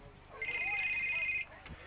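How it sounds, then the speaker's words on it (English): A telephone rings once in a long electronic trill heard during a country football broadcast, clear and fairly close, lasting about a second over faint background crowd noise. "that's your phone, the bat phone's ringing"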